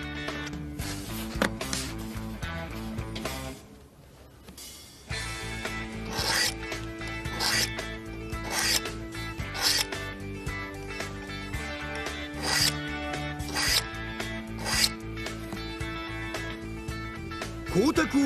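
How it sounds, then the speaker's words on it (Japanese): Manga screentone being scraped straight along a ruler with a blade, producing repeated short rasping strokes over steady background music, close and fairly loud. "当たりに沿って定規を使いながらまっすぐ削っていく。"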